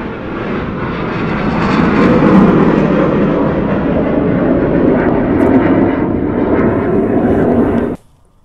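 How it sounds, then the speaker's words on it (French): A fighter jet roars overhead, a loud sustained broadband rumble that swells and holds for several seconds before cutting off abruptly. "C'est un avion de chasse."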